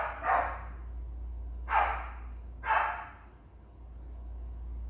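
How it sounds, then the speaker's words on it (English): Dogs in a household of eight bark indoors: three separate barks spaced about a second apart, fairly close and clear over a low steady hum. "One of the drawbacks of living in a house with 8 dogs is that they bark and make all kinds of noises."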